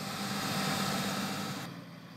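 A Claas Xerion 3800 tractor pulling a Kaweco 24,000 litre swan-neck slurry tanker gives a steady, loud engine rumble mixed with broadband noise, then eases slightly toward the end.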